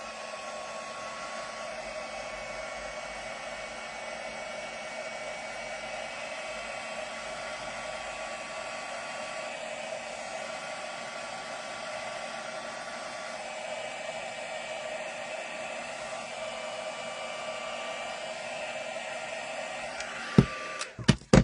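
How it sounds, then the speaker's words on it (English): A heat tool blows a steady, close roar of hot air over a handmade Christmas card to dry it. The whoosh holds constant and ends with a few sharp clicks as it switches off. "Go over that with a blast of heat."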